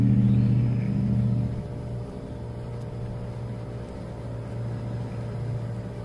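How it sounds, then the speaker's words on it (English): Waste-to-ash Phoenix unit's ion generator starting up, a steady low electrical-mechanical hum with a louder onset that settles into a constant drone, heard alone at moderate level. "Sound is the ion generator turning on."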